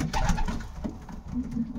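Large pigeons cooing in a loft or cage, soft repeated throaty coos close by, with low background noise and no speech.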